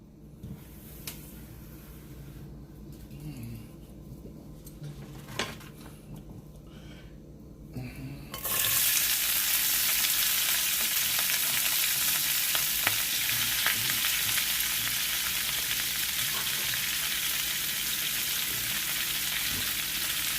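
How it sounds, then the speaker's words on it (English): Bok choy drops into melted clarified butter in a hot pan, and a quiet stretch with a few clinks gives way to a sudden, loud, steady sizzle and hiss that carries on without talk. "As soon as that go ahead and melts down to liquid form, I'm going to drop the bok choy in there."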